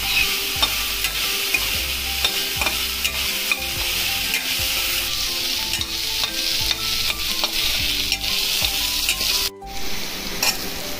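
Chopped onion frying in oil in a pan for masale bhat gives a loud, steady sizzle, with spoon stirring and scraping clicks throughout and a short dip near the end.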